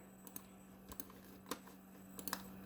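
Keys on a computer keyboard clatter in a few quiet, scattered clicks with brief gaps between them, typed close by against a faint steady hum.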